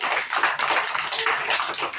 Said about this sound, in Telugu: అందరూ ఒకసారి గట్టిగా క్లాప్ చేయండి.